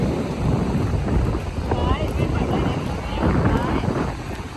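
Wind and sea at Cha-am beach in Thailand: a constant heavy roar of wind buffeting the microphone over rolling surf, with faint voices under it.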